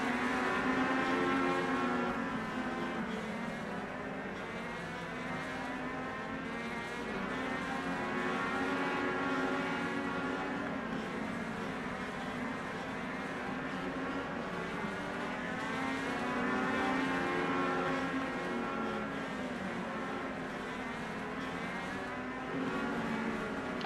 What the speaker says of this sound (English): William Martin just cruising, saving some tires, doing the best he can to get through this